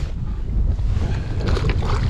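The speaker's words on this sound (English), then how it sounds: "We got some wind blowing on this flat" Wind blows hard across an open fishing flat, a loud, steady rush of gusts and microphone buffeting near the water, with no voices.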